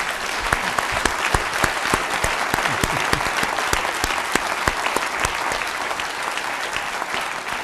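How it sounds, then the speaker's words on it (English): An audience at a London event on neglected tropical diseases gives a steady round of applause, dense clapping with sharp individual claps standing out throughout, moderately distant and continuous. "please a big round of applause and a wave to everyone who's watching us online"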